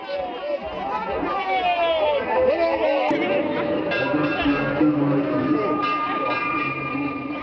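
A dense crowd of pilgrims at a river ghat on Maha Shivaratri, continuous close babble of many voices with scattered shouts and clanks, people talking all around.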